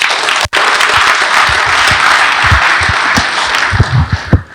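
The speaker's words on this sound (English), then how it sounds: "Once more, another round of applause for His Excellency" A large audience at a formal event applauds a former head of state, a loud, continuous roar of clapping with a brief dropout near the start and a few sharper claps toward the end.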